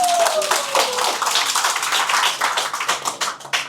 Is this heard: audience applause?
yes